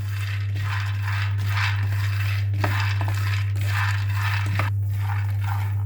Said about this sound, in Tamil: இப்போ அதே பேனில் வந்து 1 கப் அளவுக்கு வேர்க்கடலை எடுத்திருக்கேன். நான் சிகப்பு வேர்க்கடலை எடுத்திருக்கேன்.